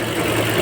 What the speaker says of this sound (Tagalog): Parang nanginginig ang makina,